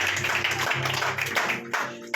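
A church congregation at a Sunday service claps together to welcome newcomers, a dense, steady patter of many hands filling the room for about two seconds.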